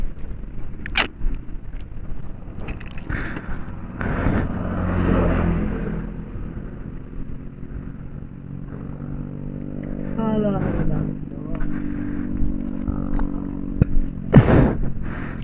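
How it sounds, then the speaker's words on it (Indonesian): A motorcycle engine idles and revs close by, rising in pitch in a couple of strong bursts, with talk and some handling noise around it. "Nah, ini motor saya guys."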